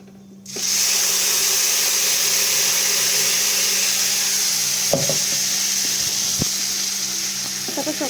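Ground onion and chili paste sizzles steadily in a hot pan for shrimp curry, a dense, continuous frying hiss with a few scrapes of stirring near the end.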